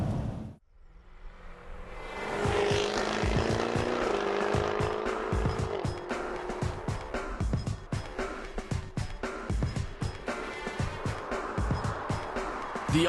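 A Jaguar F-Type R Coupe with quad exhaust accelerates hard, its engine swelling to a loud snarl, then lifts off into a rapid run of sharp crackles and pops from the exhaust.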